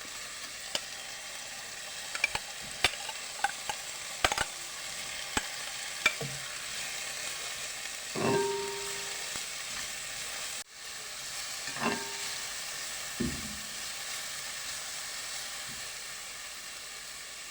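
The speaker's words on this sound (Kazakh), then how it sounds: "пиязымызды, болгар бұрышын және де сәбізді жақсылап 1-2-3 минуттай қуырып аламыз" Onion, bell pepper and carrot fry in hot oil in a pan, a soft continuous sizzle and hiss with scattered light clicks and a few louder stirring swishes, close and fairly quiet.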